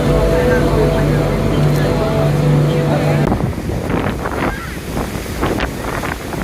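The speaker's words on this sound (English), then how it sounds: "the wind is getting up and it's blowing out the surf now" Strong wind buffets the microphone at a beach with surf, a loud continuous roar of gusts and breaking waves that shifts partway through, with a voice speaking over it.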